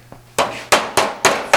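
A body hammer strikes a car body panel held against strong 1 inch by 1/4 inch steel stock while forming an Austin-Healey 3000 shroud, giving five loud, sharp metallic blows at a steady pace after a faint tap.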